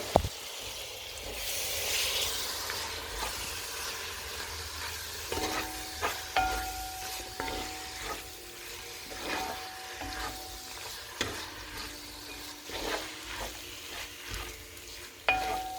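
Ox tripe with ginger and garlic frying in a pan gives off a steady sizzle, with repeated scraping and clinking of stirring throughout, close and moderately quiet.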